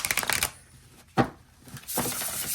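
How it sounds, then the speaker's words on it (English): Tarot deck being riffle-shuffled by hand, three short crisp bursts of flapping cards close to the microphone with quiet pauses between, no talking. "it definitely does not hurt my hands to shuffle this"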